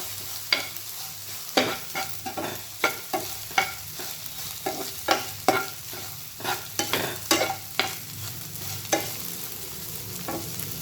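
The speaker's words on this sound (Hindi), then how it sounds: "और चाट मसाला थोड़ा सा। अच्छे से मिलाएंगे।" Okra masala is stirred with chaat masala in a pan, making a steady run of scraping, clinking spoon strokes over a soft sizzle, close and with no talking.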